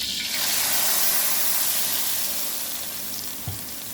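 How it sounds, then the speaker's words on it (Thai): Steady, close sizzling and hissing of paste frying in hot oil, with a faint scrape of stirring near the end. "ผัดเครื่องให้หอม"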